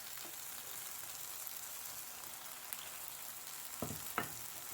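Chopped tomatoes fry in a frying pan with a steady, soft sizzle throughout, broken by a couple of brief louder clatters near the end.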